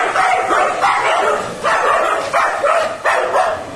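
Several dogs bark and yelp loudly in bursts close by during a fight, with overlapping barks, whimpers and snarls in an uneven, agitated rhythm.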